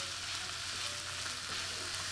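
Sisig sizzling and frying steadily in a hot pan after a splash of soy sauce and black pepper, a continuous dense crackle with no talking.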